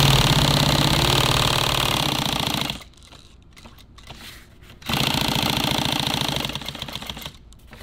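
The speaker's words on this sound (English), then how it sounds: "Let's see if this sews right." A sewing machine stitches nylon tactical gear in steady, fast mechanical bursts, running close and loud for about three seconds, pausing briefly, then starting again.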